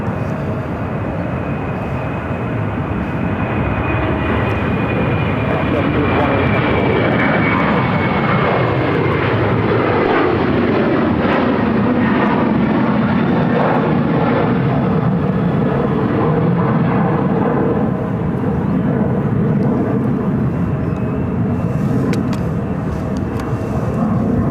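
A Boeing 737-800 airliner at Phoenix airport roars with a loud, steady jet-engine drone throughout, a broad rushing noise with rising and falling whine tones, close and continuous with no speech.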